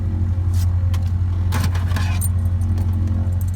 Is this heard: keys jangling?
yes